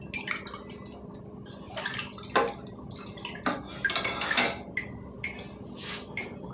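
A spoon stirs chilli powder into dal in a metal pot for pappu charu. Scattered scrapes and clinks on the metal come close and fairly soft, mixed with wet sloshing, and no one speaks.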